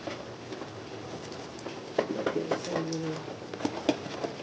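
Rare pigeons coo in a loft in soft, throaty bursts at close range, with light fluttering and scratching around them and some faint talk.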